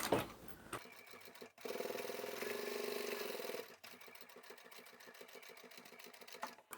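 A sewing machine runs stitching straight along a marked line on a foldable shopping bag, starting and stopping in short forward and reverse bursts with a steady mechanical hum and rapid ticking throughout.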